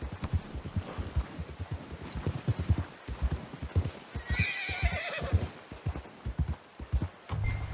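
A horse in Red Dead Redemption 2 gives a loud, drawn-out whinny mid-clip over steady clip-clopping hooves on a trail, the hoofbeats continuing throughout.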